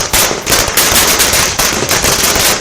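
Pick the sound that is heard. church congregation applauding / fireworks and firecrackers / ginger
fireworks and firecrackers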